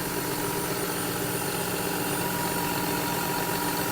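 A John Deere 6175R tractor engine idles steadily after a warranty repair, with a constant low rumble and faint knocking vibration, close by, no talking.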